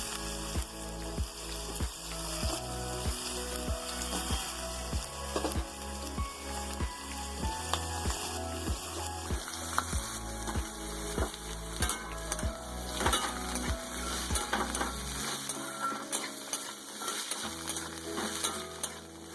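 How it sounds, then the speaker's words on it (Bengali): Potatoes fry in a pan for a green beans and potato curry, giving a continuous close sizzle with steady crackle and occasional stirring. "আলুগুলোকেও কিন্তু আমি 2 থেকে 3 মিনিটের মতো ভেজে নেব।"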